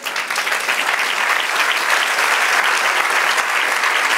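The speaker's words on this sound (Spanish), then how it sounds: "Denle un aplauso al Señor." Church congregation clapping for the Lord during a Spanish-language sermon, dense loud applause sustained evenly throughout with no talking over it.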